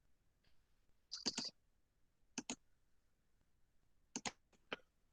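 Computer mouse being clicked in a quiet room: a few sharp, close clicks, a short cluster of three, then a pair, then another quick run of three or four, with silence between and no talk.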